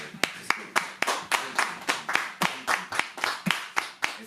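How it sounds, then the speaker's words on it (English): An audience at an economics game show claps in unison to a traditional war drum rhythm, sharp regular claps about twice per second, fairly close and with no talk over them. "You're going to clap very traditional sort of like war drum rhythm."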